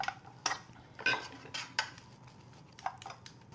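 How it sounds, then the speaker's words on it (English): A utensil swishes and scrapes around a bowl of Yum Yum Gems batter, giving several soft, irregular strokes and light clinks against the sides, close and quiet with no talking. "I will give this one last little swish around, make sure I've got all of the flour off of the sides"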